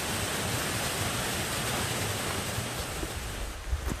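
Yongchu waterfall in the Daeyasan mountain valley pours in a steady, broad rushing roar of falling water, close and continuous with no voices.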